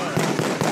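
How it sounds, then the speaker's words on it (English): Fireworks go off close by at ground level in a city street, a dense crackle of rapid pops with a few stronger bursts, loud and near, with voices faintly mixed in. "It's pretty close for fireworks."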